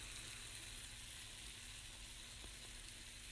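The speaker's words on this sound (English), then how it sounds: "nice light sizzling" Chicken fajita filling sizzles lightly in a hot pan, giving a soft, steady hiss with no voices over it.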